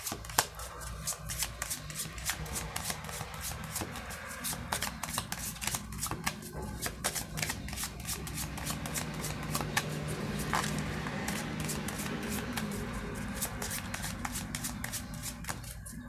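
A Gypsy (baralho cigano) card deck of Santa Sara cards being shuffled by hand, a steady run of close, crisp riffling and slapping card sounds with no speech.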